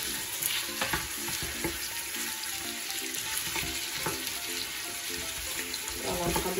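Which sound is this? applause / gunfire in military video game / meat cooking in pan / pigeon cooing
meat cooking in pan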